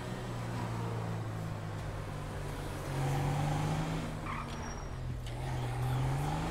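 A truck drives along in GTA 5, its engine droning steadily at close range and rising in pitch as it accelerates through two swells, with a faint road hiss and no talk.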